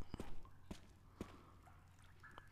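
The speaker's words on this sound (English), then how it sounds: "Drip, drip, drip." Water drips in the Resident Evil video game: three or four sharp, isolated drops land about half a second apart, faint and quiet over a low steady ambient hum.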